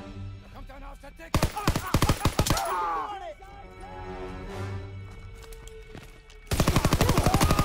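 A PPSh submachine gun fires in a WW2 video game in loud, rapid bursts, first a short volley, then a gap filled with other game sounds and distant clatter, then another sustained close burst at the end.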